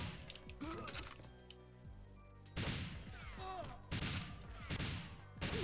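Short bursts of automatic gunfire rattle out in GoldenEye 007 on the N64, separated by quieter stretches and ending in one more burst.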